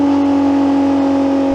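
A Ferrari SP3 V12 holds a loud, steady engine tone, a sustained buzzing drone with no breaks, close and alone.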